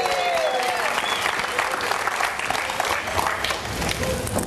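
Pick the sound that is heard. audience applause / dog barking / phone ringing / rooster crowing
audience applause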